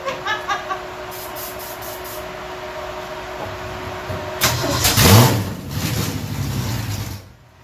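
A 1967 Mustang engine cranks and tries to start: a mechanical starter churns loudly at close range for a few seconds after some faint clicks and a whine, then cuts off without the engine catching.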